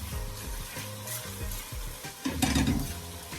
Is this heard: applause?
no